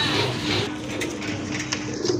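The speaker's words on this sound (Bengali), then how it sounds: "আরেক জোড়া কবুতর এটা হচ্ছে আপনার গড়া কবুতর" Pigeons cooing close by in soft, repeated low murmurs, with a few light rustles and knocks in the background.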